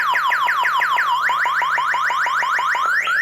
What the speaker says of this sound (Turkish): Dokunmaya devam ettiği zaman